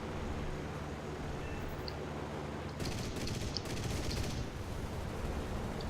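Aircraft cannon and machine guns fire in War Thunder. A low, steady engine drone breaks into rapid, continuous bursts of gunfire about halfway through, with no voices.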